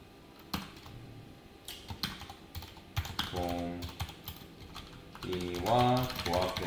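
Code is typed on a computer keyboard in rapid bursts of close, crisp key clicks, with a person speaking over the later part.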